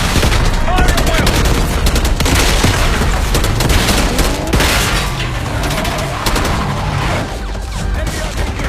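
A loud, sustained battle in Call of Duty: Black Ops 6, with rattling machine-gun bursts and overlapping rifle fire plus heavy booms, continuous through the whole stretch and mixed with shouted voices in the chaos.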